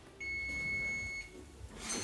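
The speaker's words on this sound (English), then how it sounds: "Just the timer." A kitchen timer gives a single sustained electronic beep lasting about a second, close and clear over faint background room noise.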